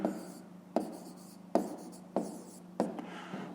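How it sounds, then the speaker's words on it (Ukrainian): A pen writes out a fifth-grade math exercise solution by hand on paper in quick, distinct strokes: five or six sharp scratching bursts, each fading quickly, close and quiet, with no voices. "Ну записуємо"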